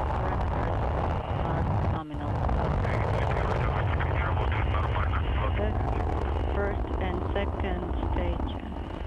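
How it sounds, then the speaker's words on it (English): Soyuz rocket engines at liftoff, a loud continuous roar with broadband rumble sustained across the clip, with a brief dip near the start and a voice commentating over it. "Liftoff. Engines at maximum thrust."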